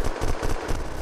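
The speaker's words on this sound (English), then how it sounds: "He's just shooting the wall!" Rapid gunfire in the survival game Unturned, a steady burst of repeated shots fired into a wall over about a second, loud and close with no talk over it.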